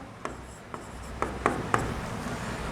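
Chalk or marker writing on a board during a physics lesson: five or six short, distinct scratchy strokes spaced irregularly, close and moderately loud over a steady room hiss, with no talking.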